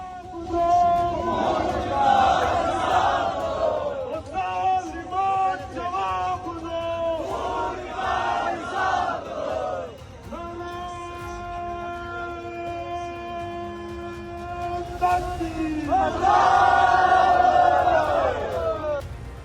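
Large protest crowd in Muzaffarabad chanting and shouting in rhythmic bursts, with a siren-like sustained tone wailing between the chants, loud and close.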